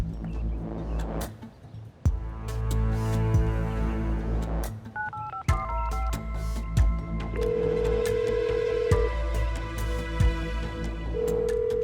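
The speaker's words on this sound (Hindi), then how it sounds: "अरे फोन भी नहीं उठा रहे।" A telephone rings with repeated electronic tones over a steady musical background, lasting through most of the stretch.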